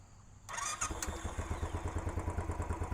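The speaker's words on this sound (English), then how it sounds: "So as we hear it start, notice how smooth it runs, how nice it sounds." A 2018 Royal Enfield Classic 500 motorcycle engine cold-starts, cranking and catching, then settles into a steady, even idle with a regular pulsing beat, close and fairly loud.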